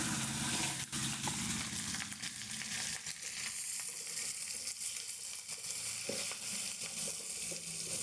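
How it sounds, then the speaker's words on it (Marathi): Garlic, onion and curry leaves sizzle loudly in hot oil as a tempering for a Konkani tender jackfruit curry, a continuous close frying hiss with occasional stirring scrapes. "आणि त्यानंतर आता आपली इथे जाणार आहे फोडणी."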